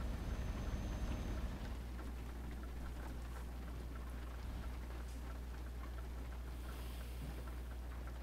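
Steady rain on a truck in Euro Truck Simulator, a dense even patter with a low engine rumble underneath, continuous and moderately loud throughout.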